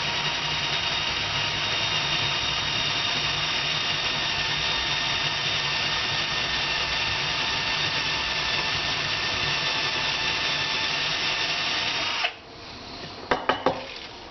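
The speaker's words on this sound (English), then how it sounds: "Going from above, drilling down into it." A power drill whines steadily for a long stretch as it bores down through wood, then stops, followed by a few sharp knocks.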